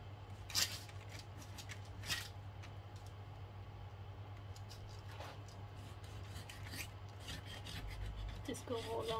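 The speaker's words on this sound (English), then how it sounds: "I'm just going using this filer and just give it a little file" Rasping strokes of a hand file smoothing the edges of cured resin peacock art, with scraping bursts at irregular intervals over a steady low hum.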